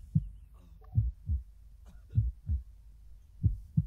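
A heartbeat sound effect in the video game ArmA 3, a series of soft, low thumps in a regular lub-dub rhythm heard alone against quiet.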